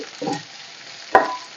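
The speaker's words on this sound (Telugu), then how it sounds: "కొంచెం కరివేపాకు బాగా ఫ్రై చేసుకోవాలి" Short bursts of sizzling and crackling from curry leaves dropped into hot oil, with two sharp loud spits near the end.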